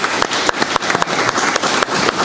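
An audience at a county school board meeting claps in dense, steady applause, close and fairly loud with many overlapping hand claps and no talk on top.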